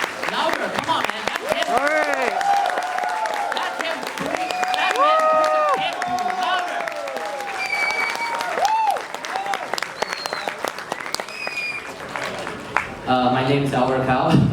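Convention panel crowd at Anime NYC claps and cheers loudly, with whoops and shouted voices rising over sustained applause that swells again near the end.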